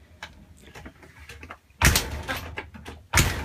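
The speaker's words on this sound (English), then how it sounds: "a door that's really hard to shut" The door of a 30-foot aluminum Airstream travel trailer, hard to close, is shut with two loud, heavy slams a little over a second apart, with quieter shuffling and rattling before them.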